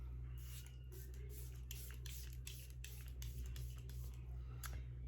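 A rapid series of short, hissing bursts of Benefit Porefessional Super Setter setting spray, about a dozen quick pumps in steady rhythm, sounds close by over a low background hum.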